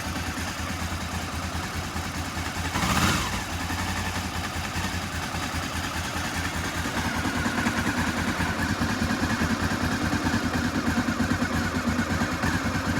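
Honda CB500 motorcycle engine idling warm with the choke off, a steady close low rumbling beat that holds evenly throughout, with a brief bump of noise early on.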